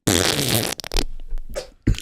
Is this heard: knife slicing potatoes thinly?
no